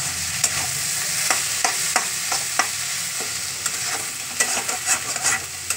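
Loitta fish (Bombay duck) frying in a pan, a steady sizzle broken by repeated sharp scrapes and clacks of a spatula stirring the pieces, close and lively.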